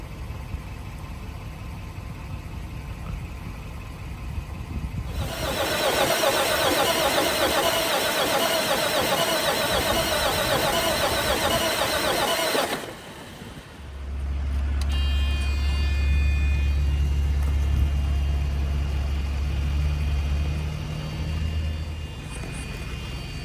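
Diesel engine of a Freightliner cabover truck, fitted with fresh batteries after the old ones died, cranking and then firing up, followed by a steady low rumbling idle. Close and loud, with no voices.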